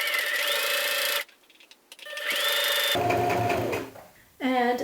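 A sewing machine stitches a seam on a vest of lining and shell fabric in close, loud whirring bursts that start and stop several times, with quieter pauses between runs.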